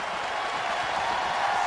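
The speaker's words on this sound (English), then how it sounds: "The 300th consecutive sellout crowd is loving it." A sellout hockey arena crowd applauding during an NHL game, a dense, steady wash of clapping and crowd noise from the stands, loud and continuous for the whole short stretch.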